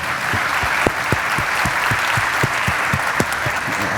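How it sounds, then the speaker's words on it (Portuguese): An audience at a conference panel bursts into sustained applause, dense steady clapping filling the hall with sharp individual claps standing out, loud and continuous throughout. "Uma salva de palmas, minha gente."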